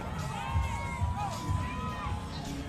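A Mardi Gras parade crowd in New Orleans, a steady roar of many voices with whoops and shouts rising and falling over a low rumble, heard at moderate distance.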